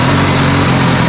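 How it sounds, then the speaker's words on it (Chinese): A Suzuki Katana GSX-S1000S motorcycle engine running, a loud, steady, deep rumble close by with no change in pitch, heard alone without talking. "浑厚的引擎声啊"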